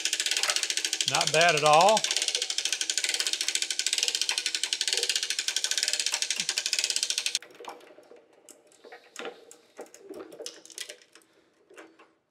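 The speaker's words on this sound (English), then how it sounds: "So that cranks up fairly easily." A Rogers 60-ton hydraulic press being cranked up gives a fast, steady run of ratchet clicks for about seven seconds. Near the start a person speaks briefly over the clicking, and quieter handling noises and scattered clicks follow once it stops.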